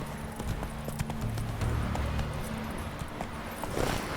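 Horse hooves clip-clop at a steady riding pace in The Witcher 3, a close, regular clatter of hoofbeats over a low ambient rumble of the game world.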